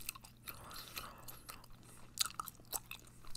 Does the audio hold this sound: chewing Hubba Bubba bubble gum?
yes